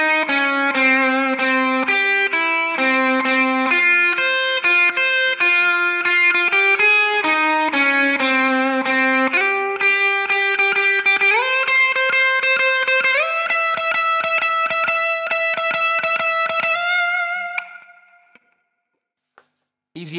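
Distorted electric guitar plays the solo from a song, a run of sustained, bending lead notes that climbs to a high slide before cutting off abruptly near the end, loud and alone.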